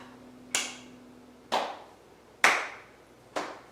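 Four separate sharp claps sound close and alone during a family yoga class, spaced about a second apart, each with a short ringing decay.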